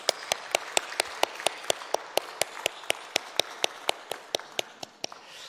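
Church congregation at a Sunday worship service clapping together in a steady, evenly spaced rhythm, roughly a dozen-plus sharp claps at moderate distance, with no talking over them.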